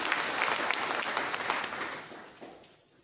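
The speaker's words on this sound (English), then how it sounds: "Form 1G, Madam Katigani, clap for her." Audience applause for a class teacher being introduced at a girls' school Form One orientation, steady dense clapping for about two seconds that thins and fades away toward the end.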